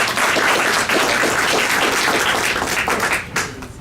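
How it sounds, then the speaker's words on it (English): An audience at a city council debate breaks into brief, loud applause, many hands clapping close and dense for a few seconds before tapering off. "A round of applause for Mr. Brewington, Curtis Brewington."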